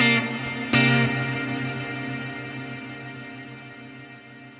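Electric guitar through a TC Electronic Hall of Fame reverb pedal with the tone set bright: a struck chord rings, is restruck, then decays slowly in a long, smooth hall-like tail.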